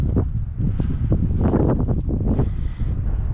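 Strong wind outdoors in Rome, New York buffets the microphone in a loud, low rumbling roar, gusting continuously with faint rustling underneath.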